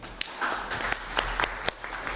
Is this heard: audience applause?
yes